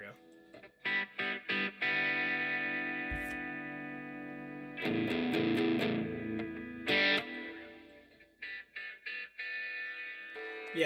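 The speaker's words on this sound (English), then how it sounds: "that graininess that you're hearing, is intentional. That's called distortion." Music with deliberate distortion, a grainy, buzzing sustained tone cut by choppy stops and bursts, playing fairly loud across the whole stretch with no talking.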